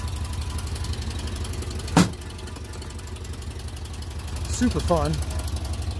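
Old Pinzgauer off-road vehicle engine idles steadily while warming up, a low continuous rumble with a brief clunk partway through, as a voice speaks briefly near the end.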